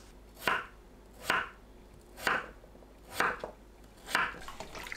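A kitchen knife slices quartered potatoes into pieces about 0.7 cm thick on a cutting board, five evenly spaced crisp chops, close and fairly quiet, with no talking.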